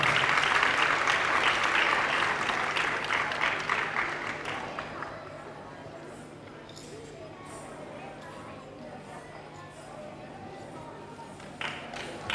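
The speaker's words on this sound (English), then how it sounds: "Round of applause for him, everyone" An audience claps as a speaker comes up on stage, loud at first and then fading after a few seconds into quieter room noise.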